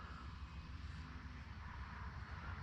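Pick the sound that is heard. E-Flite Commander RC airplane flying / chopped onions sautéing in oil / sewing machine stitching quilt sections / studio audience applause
E-Flite Commander RC airplane flying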